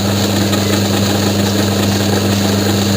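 An old lathe set up for milling runs steadily through a cut, a continuous mechanical hum with a strong low tone and broadband whir, loud and even throughout with no talking.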